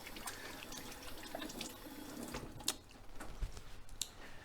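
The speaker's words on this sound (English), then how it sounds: "Give my hands a bit of a wash." Tap water runs steadily in a kitchen sink while hands are rinsed under it, a continuous splashing hiss with a few small knocks and clinks near the end, no talking.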